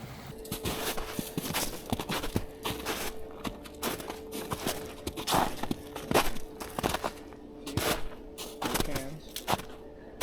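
Footsteps walking near a creek by an old homestead, crunching steadily and close on uneven ground, with a faint tone running underneath.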